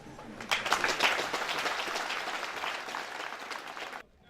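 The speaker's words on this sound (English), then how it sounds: "put our hands together to give you a huge and hearty hand clap" Hearty applause from a gathered crowd at a formal army ceremony, sustained dense clapping heard from a distance that continues for about four seconds before cutting off abruptly.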